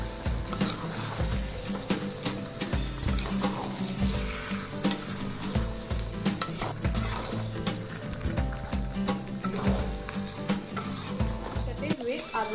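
Mutton curry sizzles and spatters in a pan while it is stirred, with scraping strokes and continuous frying crackle at moderate loudness.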